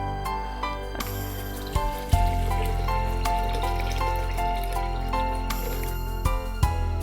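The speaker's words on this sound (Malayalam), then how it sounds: "ഏകദേശം 2 കപ്പ് വെള്ളം ഒഴിച്ച് കഴിഞ്ഞു" Ice water pours into a spiced guava drink mixture, a continuous trickling stream with occasional drips and clinks, close and steady over low background hum.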